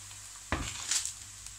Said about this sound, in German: jetzt nimmt die Zwiebeln Farbe an